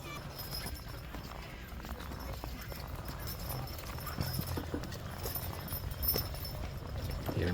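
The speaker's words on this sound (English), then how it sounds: "Let's go and say hello to a couple horses here" Horses walk at a Light Up Okotoks winter night event in Alberta, their hooves giving faint, irregular clip-clop steps amid outdoor crowd murmur and wind noise, with people talking nearby.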